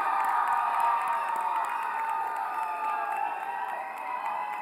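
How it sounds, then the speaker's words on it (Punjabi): An audience at the Miss PTC Punjabi 2018 grand finale applauds and cheers for six contestants, a dense, sustained wash of clapping and whoops that fades slightly toward the end. "ਤੇ ਇਹਨਾਂ 6 ਮੁਟਿਆਰਾਂ ਲਈ ਜ਼ੋਰਦਾਰ ਤਾੜੀਆਂ ਐਂਡ ਕੰਗ੍ਰੈਚੁਲੇਸ਼ਨ।"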